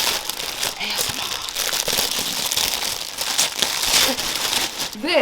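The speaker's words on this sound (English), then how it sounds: "Let me open it so there's no like rustling sound, unless you like that." Close, continuous crinkling and rustling of light box packaging being opened and handled, loud and busy throughout, with occasional sharper tearing crackles.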